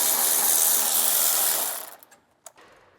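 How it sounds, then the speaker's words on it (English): A 13mm socket ratchet turns a brake line bracket bolt on a 2020 GM truck during an Air Lift LoadLifter 5000 helper spring install, giving a close, steady buzzing whir for about two seconds before it stops, then one sharp click. "We'll use a 13mm socket for that too"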